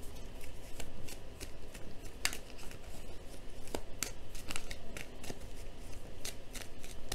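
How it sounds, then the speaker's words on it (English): A deck of tarot cards is shuffled close by, making continuous soft riffling and rubbing with scattered sharp card snaps. The sound is quiet and steady throughout, with no talking. "Let me just shuffle this one more time."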